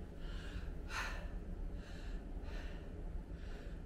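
An older man breathes heavily after exercising, with several loud, breathy gasps and snorting exhales at an irregular pace over steady background noise, close to the mic and with no talk.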